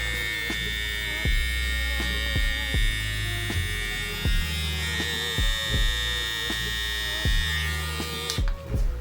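A Tomb 45 x Babyli hair trimmer runs at its high speed setting, giving a loud, steady, close electric buzz with a bright whine, broken by repeated handling clicks and taps.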